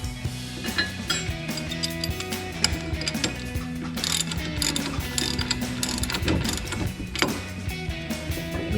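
A ratchet wrench loosening a brake caliper bolt on a Dodge Challenger during a brake rotor and pad job, with rapid metallic clicking bursts and clinks, close and fairly loud, with no talking.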